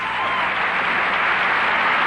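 A crowd applauding after a gymnastics balance beam routine at a collegiate meet, a steady, loud wash of clapping that fills the whole stretch.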